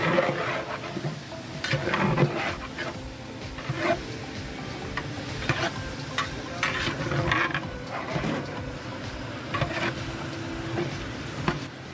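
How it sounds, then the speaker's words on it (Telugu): A large batch of chicken, about 15 kg, is turned with masala in a big pot for a function-style chicken fry, giving scraping, clattering stirs with a soft sizzle beneath, irregular and close throughout. "ఈ మసాలా అంతా ఈ చికెన్కి పట్టేలాగా బాగా కలుపుకోవాలి."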